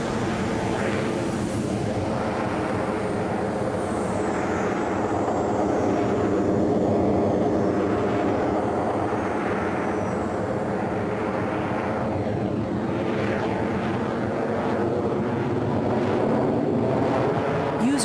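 A fixed-wing aircraft taking off down a runway in the Arma 3 video game, its engine a loud, continuous drone that swells and holds without a break.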